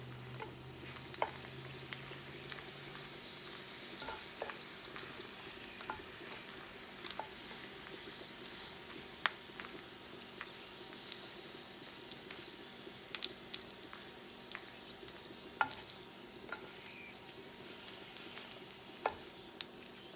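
Chiles sautéing in a pan for chicken mole, a faint, steady sizzle with occasional small pops and ticks.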